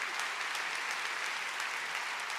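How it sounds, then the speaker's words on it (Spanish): An audience at a talk applauds, a dense, even wash of clapping from many hands, steady and moderately loud through the whole moment. "Esa es la primera vez que recibo un aplauso por ser ciega."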